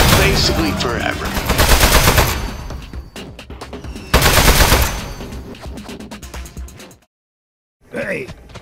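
Portal turrets fire in the video game, bursts of rapid automatic gunfire close and loud, with two long volleys separated by scattered shots, then a short silence and a brief voice at the end.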